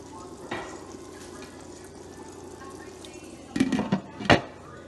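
A lid set down on a pot of egusi melon stew made with red oil, giving a few sharp metallic clanks over a low, steady simmer.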